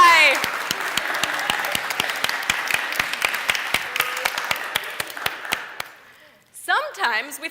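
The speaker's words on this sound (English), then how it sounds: "round of applause, Eli" A church congregation gives a round of applause for a child named Eli: sharp, close individual claps over a steady crowd patter that fades out near the end before a voice speaks.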